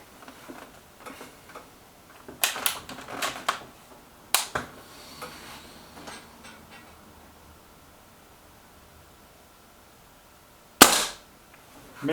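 Shots from a Walther Rotex RM8 UC .177 air rifle: a few sharp cracks, one clear loud report near the end, with quieter clicks and handling noise in between and no talk.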